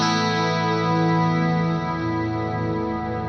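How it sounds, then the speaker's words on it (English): A guitar chord played through a Fractal unit with reverb hold sustains as a thick, shimmering wash that holds at a steady level without fading, alone and with no voices. "I switch up to that scene, and the reverb is holding indefinitely"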